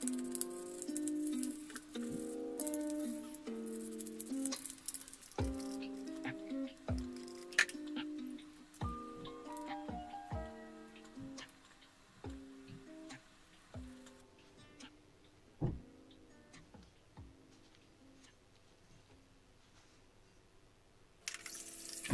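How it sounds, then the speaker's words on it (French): A Honda CB 500 carburetor body being scrubbed with soap and water, with trickling and splashing water, small metallic taps and clicks in an uneven rhythm, close up, fading quieter toward the end, without speech. "Ici je nettoie le corps du carburateur en tant que tel, donc avec de l'eau, du savon, principalement."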